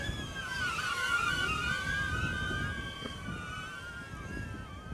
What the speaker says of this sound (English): Jesus, that is windy.